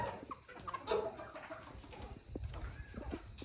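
Native country chickens settle on their night roost inside a shed, giving soft, scattered clucks and short calls at close range over a steady background hum.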